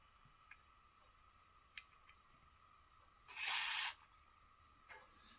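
A short hiss of an aerosol spray into an electric guitar's noisy volume pot, about half a second long, stands out against quiet room noise with a few faint clicks.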